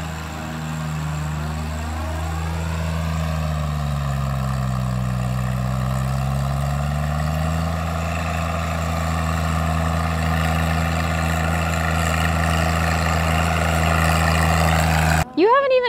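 A tractor engine idles and drones low and steady throughout, with a slight pitch rise and fall partway through, close by and continuous.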